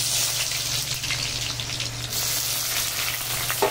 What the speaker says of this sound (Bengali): পেঁয়াজগুলো ভালো করে ভাজা ভাজা করে নেব।